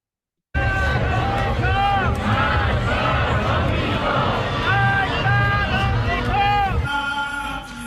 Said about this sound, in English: Crowds in Tehran chanting death to America and Israel at the funerals of top terror leaders and nuke scientists